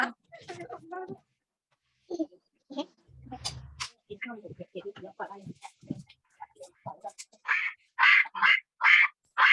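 Several bursts of a duck's quacking played for young children in an online class about everyday sounds, loud and repeated in the final seconds after stretches of adults and children talking.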